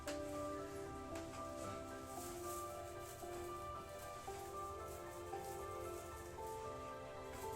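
Steady rain patters outside, a soft continuous hiss of drops heard faintly at a distance.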